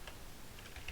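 Quick keypresses on a computer keyboard entering a Ctrl F search shortcut, a short cluster of close, crisp clicks with no talking.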